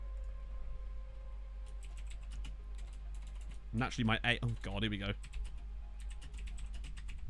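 Rapid, clicky keystrokes on a computer keyboard run steadily throughout, close and fairly crisp, while someone talks briefly in the middle of the typing.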